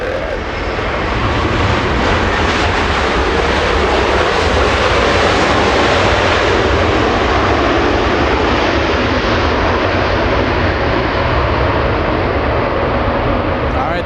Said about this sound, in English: You can still hear the Dreamliner. Yeah, the Dreamliner is really loud.